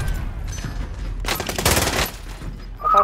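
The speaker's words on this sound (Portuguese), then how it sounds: "Eles estão atirando aqui." Rapid gunfire bursts in Call of Duty: Modern Warfare, a dense volley of automatic shots swelling in the middle of the clip over low rumbling game ambience, then easing off.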